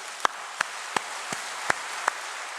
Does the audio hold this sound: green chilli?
no